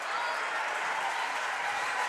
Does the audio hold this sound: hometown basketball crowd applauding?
yes